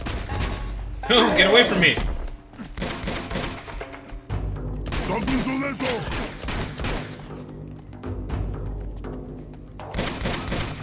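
Video game gunfire comes in dense automatic bursts with short pauses between them. A voice shouts over the shooting at the start.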